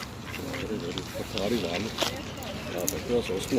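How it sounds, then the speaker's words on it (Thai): White ducks quack repeatedly in a nasal, uneven chatter, mingled with people talking nearby. "เป็ดขาว"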